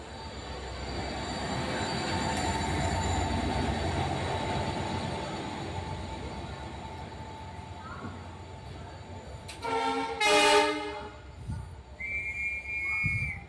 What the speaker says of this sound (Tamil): ட்ரெயின் கொஞ்சம் ஸ்லோ ஆக்கிட்டாங்க